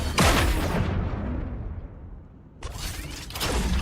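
Gunfire in BGMI: a loud close burst opens with a sharp crack, fades into a long decaying rumble, then another blast and a rattling mechanical clatter follow, with no talking.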